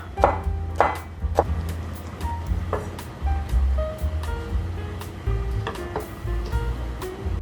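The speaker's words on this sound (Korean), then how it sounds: "먼저 홍고추, 이렇게 동글동글하게 썰어주세요." A knife slices red chili peppers into small rounds on a cutting board, giving a series of irregular, fairly close chopping taps over a low steady background hum.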